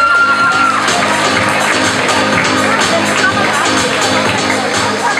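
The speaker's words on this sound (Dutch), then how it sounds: "Mag ik uw applaus voor Leentje van Overwalen." Audience at a fashion pageant semi-final in Belgium or the Netherlands applauding and cheering, a dense, steady wall of clapping and whoops that stays loud and continuous throughout.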